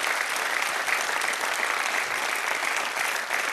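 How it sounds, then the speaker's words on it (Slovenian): An audience applauds at a live comedy stage show, a steady, full round of clapping that holds at even loudness throughout. "lep aplavz še."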